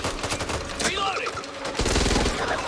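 Rapid gunfire rattles on in the video game Back 4 Blood, with dense bursts of shots, one stretch of lighter firing, and a player's voice mixed in with the shooting.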